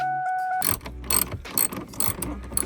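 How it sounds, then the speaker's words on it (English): Electric ratchet driving out gauge cluster screws during a Coyote engine swap, heard as a burst of rapid mechanical ratcheting clicks and whirring close by, repeating in short uneven spurts after a brief faint tone. "you can use like an electric ratchet"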